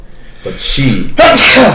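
A single close, loud sneeze, with a brief intake of breath before it and a sharp burst after, during a game session where a voice speaks a word.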